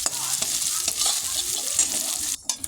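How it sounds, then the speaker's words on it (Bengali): Soybean chunks fry in hot oil in a wok while a spatula stirs them, a close, bright sizzle broken by scraping stirs and a brief pause near the end. "এখন সয়াবিনগুলো ভেজে তুলে নেব।"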